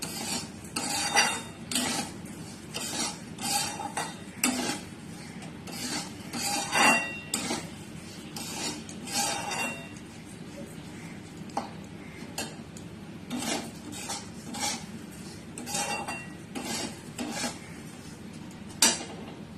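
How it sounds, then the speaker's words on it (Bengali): Semolina and sugar being stirred in a metal pan, a spoon scraping and rasping in an irregular stop-start rhythm, close and fairly loud with occasional clinks against the pan. "আগে চিনি দিয়ে ভালো করে নেড়ে নেবেন, আঠালোর মতন হয়ে গেলে তারপরে দুধটা দেবেন।"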